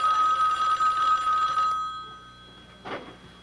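A bell rings with a bright, sustained metallic tone for a couple of seconds, then falls silent, followed by a brief soft rustle.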